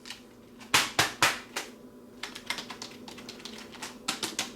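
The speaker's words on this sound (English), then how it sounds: "I feel like it's a pretty good keyboard to type on." Plastic keys clatter on a Logitech K830 backlit multimedia keyboard, with a few loud separate strokes followed by faster, lighter bursts of typing, close and with no voices.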